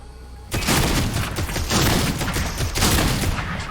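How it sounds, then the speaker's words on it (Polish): Gunfire in the battle royale game Fortnite bursts in suddenly and stays loud: rapid overlapping shots and booms in a few dense waves over a few seconds. "Ja strzelam, strzelam mu heady"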